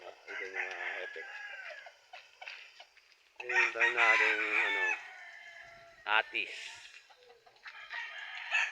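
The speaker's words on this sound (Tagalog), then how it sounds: "Yung manok natin" Chickens and roosters in a coop on a poultry farm cluck and call in loud bursts with short quiet gaps, while someone talks between and over the birds.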